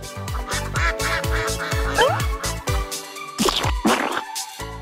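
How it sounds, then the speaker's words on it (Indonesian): Duck quacks repeat in a quick, rhythmic run of short, nasal honks that stay close and fairly loud throughout, with a few rougher, buzzier calls near the end. "Ini bukan serangga, tapi bebek."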